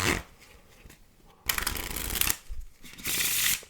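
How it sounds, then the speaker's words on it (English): A deck of playing cards is riffle shuffled up close: two loud, fluttering bursts of rapid card flicks with a brief quieter gap between them. "Let's do a riffle as well."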